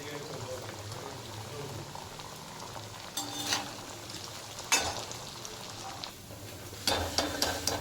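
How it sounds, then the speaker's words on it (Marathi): Coriander vadi deep frying in oil in a kadhai gives a steady close sizzle and bubbling, broken by a few sharper clatters of stirring or handling. "आपण जर कढईमध्ये फ्राय केली ना तर आतून पण व्यवस्थित ती फ्राय होते"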